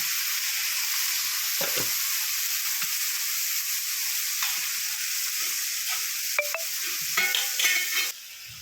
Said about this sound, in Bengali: ভিজিয়ে রাখা সয়াবিনগুলোকে দিয়ে দিলাম।